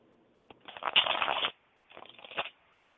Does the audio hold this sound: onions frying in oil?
no